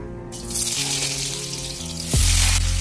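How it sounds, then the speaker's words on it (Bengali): Potato pieces frying in hot oil in a kadai, with salt and turmeric about to go in: a steady sizzling hiss under soft background music that swells louder near the end. "তেলটা গরম হয়ে গেছে, এবার আমি আলুগুলো ফ্রাই করে নেব"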